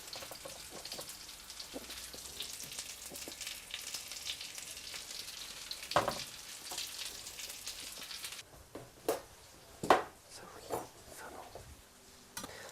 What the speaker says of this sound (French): Maintenant que le beurre est fondu, je vais pouvoir mettre mes petits légumes.